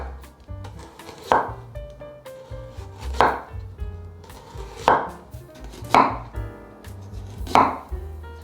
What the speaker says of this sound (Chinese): 把白萝卜盘整齐，切丝， 接着把白萝卜切短一点。